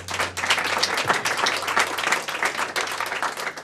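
Audience applause fills the room at a community chamber event, a dense, steady wash of many hands clapping at fairly close range, sustained throughout with no pauses or voices over it.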